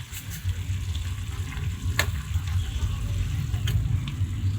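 Pork and okra with added hotdog fry in a pan, giving a dense, steady sizzle with a low bubbling rumble beneath it. A couple of sharp clicks from a utensil striking the pan cut through.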